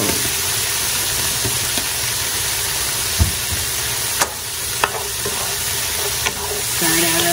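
Garlic and garlic juice sizzle steadily in a hot pan for Salisbury steak, a loud continuous hiss broken by a few sharp clinks and scrapes of stirring, with a low engine-like hum underneath.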